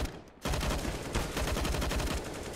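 Rapid gunfire from a Counter-Strike match sounds after a brief quiet start, with dense repeated shots that run on without a break.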